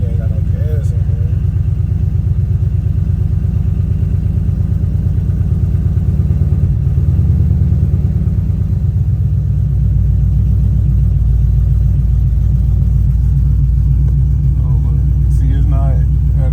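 A cammed Ford Crown Victoria V8 running at idle, a loud steady lopey rumble with a choppy low pulse and mechanical clatter, continuous and close throughout, shifting slightly in pitch partway through.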